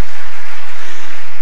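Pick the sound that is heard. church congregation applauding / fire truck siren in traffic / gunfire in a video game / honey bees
church congregation applauding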